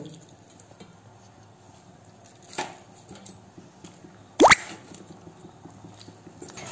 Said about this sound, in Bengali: এবার আমি এক এক করে মাছগুলো দিয়ে দেব